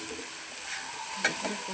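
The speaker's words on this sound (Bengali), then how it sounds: "এবার ভালো করে কষিয়ে নেব।" Turmeric, chili and cumin powder are sautéed in a pan, likely for a vegetarian fig and potato curry. A close, continuous sizzle runs under scraping stirs, with one sharper clink of the spoon partway through.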